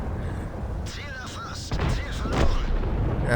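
A tank gun fires in World of Tanks from a Grille 15 tank destroyer. One deep boom lands midway and rumbles on, with someone talking over the battle noise.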